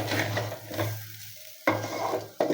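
Polao rice frying with spices in a pan for beef biryani, a strong sizzle broken by brisk stirring scrapes, with two sudden louder bursts as the rice is turned.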